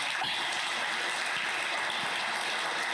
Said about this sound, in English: I think you got your applause.